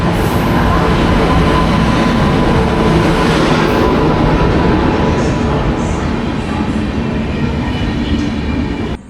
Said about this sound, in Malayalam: തിരുവനന്തപുരത്ത് നിന്നും കോട്ടയം വഴി മംഗലാപുരം വരെ പോകുന്ന തിരുവനന്തപുരം മംഗലാപുരം എക്സ്പ്രസ് മാവേലിക്കര സ്റ്റേഷൻ 2ാമത്തെ പ്ലാറ്റ്ഫോമിലേക്ക്